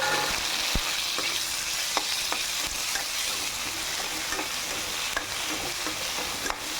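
Onions and tomatoes frying in a pan for arai keerai (amaranth greens) thokku, giving a steady close sizzle with occasional sharp clicks of stirring throughout, no voices.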